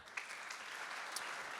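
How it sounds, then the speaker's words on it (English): A conference audience gives a round of applause for Michael at a founders' gathering, steady dense clapping throughout the short stretch with no talk over it. "I want to give a big round of applause to Michael"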